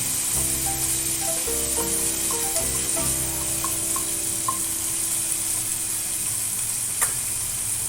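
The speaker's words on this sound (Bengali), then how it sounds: "টমেটোটা ভেজে নেব।" Tomato pieces sizzle in a pan alongside fried onion for egg bhurji. The frying hiss stays steady and moderately quiet, with low tonal hum early on and a light knock near the end.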